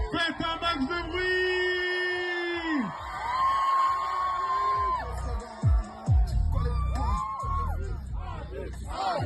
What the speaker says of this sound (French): Faites un max de bruit.